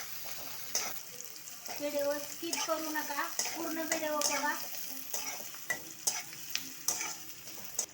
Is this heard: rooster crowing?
no